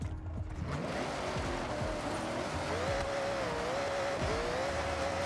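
A car drifts in a snowy Japanese winter setting of Forza Horizon 6, its engine droning and wavering with revs while tires squeal in a continuous skid, loud and close throughout.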